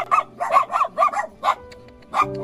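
A puppy yaps in a quick run of about seven sharp, high barks, close and loud, with a short pause before a final yip.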